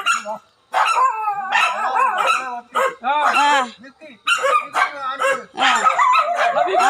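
Several dogs bark in short, excited bursts with brief pauses, while voices talk nearby.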